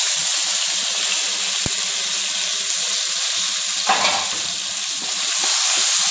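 Onion, ginger, capsicum, green chili and curry leaves fry in oil for tomato upma; a constant bright sizzle carries on, with a short burst of stirring partway through.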